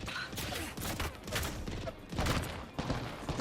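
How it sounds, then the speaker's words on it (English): Rapid bursts of G7 Scout rifle fire in an Apex Legends team deathmatch round, with double-shot firing, loud and dense, overlapping crashes and game effects in a busy close-range fight. "G7 Scout with double shot."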